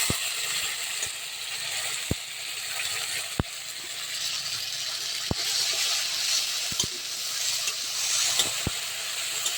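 Tomato paste sizzles in a hot pan with mustard seeds, cumin, dried chilli and ginger paste, giving a steady close hiss punctuated by several sharp clicks and taps of a spoon against the pan, with no voices.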